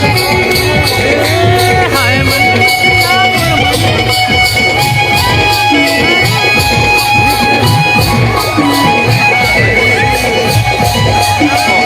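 A loud, dense crowd at the Dussehra fair in Dharamjaigarh, steady and unbroken throughout, with Chhattisgarhi music and many voices mixed together in a continuous festive din.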